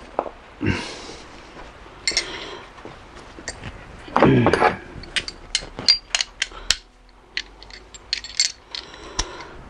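A ring spanner working the camshaft bolts on a Dodge Charger SRT8 6.4, with sharp metallic clicks, taps and clinks coming in irregular bursts close up, plus one longer scraping rattle.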